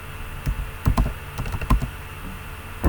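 Someone types a command on a computer keyboard, a run of close, sharp key clicks in uneven bursts with short pauses between groups of strokes, no talk.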